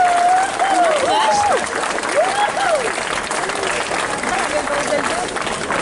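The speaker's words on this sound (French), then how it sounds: "On applaudit s'il vous plaît." Audience applause at a cosplay contest, a steady wash of crowd clapping lasting throughout, with a voice speaking over it.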